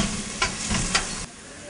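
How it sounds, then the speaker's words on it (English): Finely chopped onions sautéing in oil with cloves and cardamom, a brief dense sizzle with a couple of stirring scrapes before it drops away. "So I'm going to add the onions."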